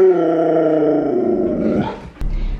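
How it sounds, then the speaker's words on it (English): A Husky gives one long, loud, sustained howl that slowly falls in pitch, then ends with a short rough sound and a sharp click. "Can you give me a howl?"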